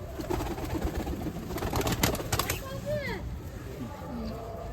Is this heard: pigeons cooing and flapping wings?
yes